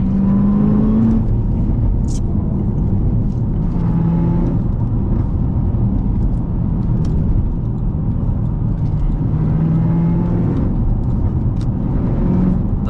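Cadillac CTS-V cruising on the highway, a steady loud engine drone and road roar with gentle rises in pitch as it accelerates and shifts, no talking.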